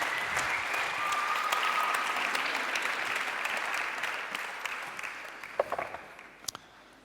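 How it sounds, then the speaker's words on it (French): A large plenary crowd applauds to welcome speaker Raphaël Anzenberger onto the stage. Dense, full clapping starts strong, then gradually thins and fades, ending in a few scattered, separate claps. "Un tonnerre d'applaudissements serait bien mérité."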